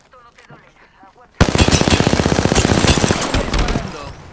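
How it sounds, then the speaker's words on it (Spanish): Automatic gunfire in the Apex Legends video game erupts suddenly and stays loud and continuous, a dense rapid rattle of shots that fades toward the end, following a stretch of quiet voice. "Me están disparando."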